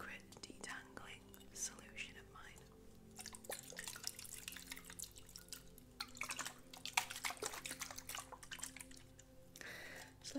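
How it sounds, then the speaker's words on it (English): Quiet, close spritzes from a water spray bottle during a gentle hair salon session, several short airy hisses and faint drips scattered across the stretch, with soft whispering in between. "Let me spritz first."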